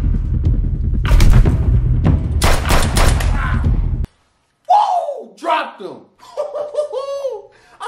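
Gunfire in a multiplayer shooter game as a teammate lines up a trick shot: dense, loud volleys and booms fill the first half, then the shooting stops and voices talk and laugh.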